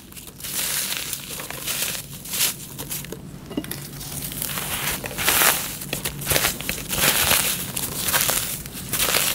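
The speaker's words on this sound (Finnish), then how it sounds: "Mulla on marenkipohjat ja ne mä murennan vaan tänne vispikermaan." Dry meringue bases are crumbled by hand into a bowl of whipped cream, making continuous close crunching, crackling and crinkling with irregular louder bursts, and no speech.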